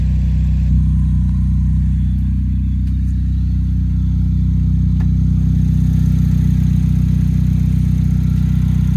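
A Chevy HHR four-cylinder engine runs steadily at idle, a low, even rumble close by that continues throughout without talking.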